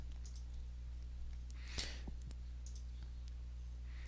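A few faint, isolated computer mouse clicks against a steady low electrical hum, including one slightly louder click near the middle.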